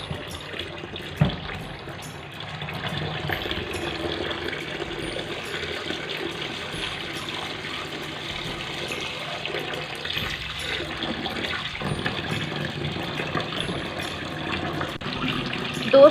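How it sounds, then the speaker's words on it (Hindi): Tap water runs steadily into a sink while raw kaleji (liver) is rinsed under the open stream, a continuous close splashing wash with no talk. "अब खुले पानी से मैं इसको धो रही हूँ"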